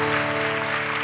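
A church congregation applauds together in a steady, dense wash of clapping, with sustained musical tones humming underneath throughout.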